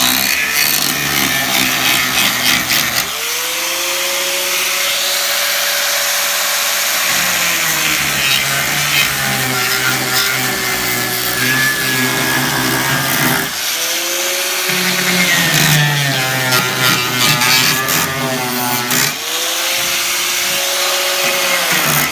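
Power tool cutting out rusted metal from the bed of a 2011 Toyota truck, a loud sustained grinding whine with pitch dipping and rising as the blade bites, pausing briefly and resuming several times.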